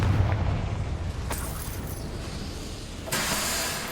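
Fiery Confringo spell blasts in the Hogwarts Legacy video game: a loud boom opens, then sustained rumbling with two more sharp bursts of noise, the last one near the end.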